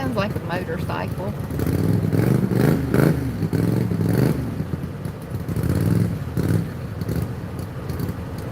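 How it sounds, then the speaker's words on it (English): A loud motorcycle-like engine rumbles and revs close by at Lake Wylie, South Carolina, continuing throughout under people talking over it. "Sounds like a motorcycle."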